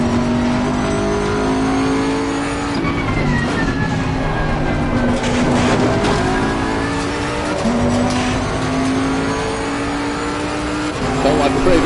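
Race car engine in Assetto Corsa Competizione at Brands Hatch, loud and continuous, its pitch climbing and dropping through gear changes with brief tyre squeal into the corners.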